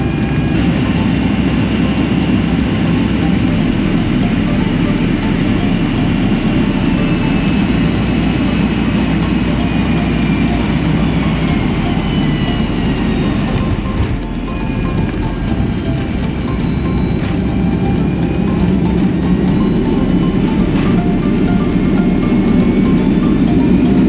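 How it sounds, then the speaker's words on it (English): Steady loud jet roar inside the cabin of an Air Zimbabwe Boeing 737-200 during landing, a constant engine drone with whining high tones that slide in pitch, no talk over it. "Cabin crew, ready for landing."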